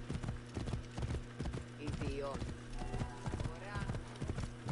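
Steady clip-clop of horse hooves at a trotting rhythm in Assassin's Creed Origins, with a horse's whinny and a low droning hum underneath, plus voices in the background.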